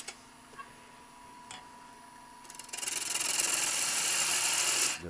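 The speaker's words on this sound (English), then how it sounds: "We can take a peeling cut here." Parting tool taking a peeling cut on wood turned between centers on a lathe, shaping a paper towel holder: a steady bright rasping hiss that swells in after a quiet start and holds loud, then stops.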